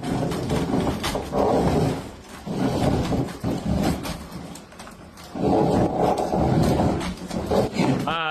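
Loud, rough grinding scrapes come in long bursts as a robot drags across a hardwood floor, with brief quieter gaps between passes.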